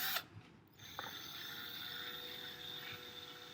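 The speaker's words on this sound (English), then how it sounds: "The drill bit is spinning in my fingers when I do that" A high-pitched whirring drill spins steadily with a faint mechanical whine, preceded by a brief burst as it starts up.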